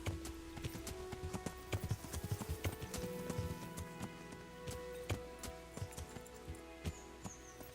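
Horse hooves clip-clop in a quick, uneven rhythm in the video game Kingdom Come: Deliverance, with sharp strikes over a low, busy background.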